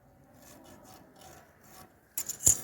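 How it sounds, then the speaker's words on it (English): Hand file rasping across a metal V-fit gauge workpiece, soft rhythmic strokes running steadily and fairly quiet, ending in a few sharper, louder scrapes. "we have to remove this while filing"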